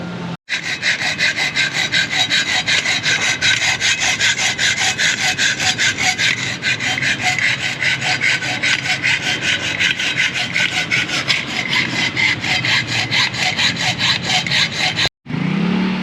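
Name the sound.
sawing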